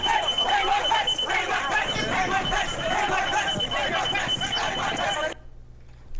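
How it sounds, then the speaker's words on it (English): A security alarm sounds steadily from a door during the Capitol riot, held under a dense crowd roar and babble for several seconds before it cuts off. "You can hear the security alarm from the door in the background"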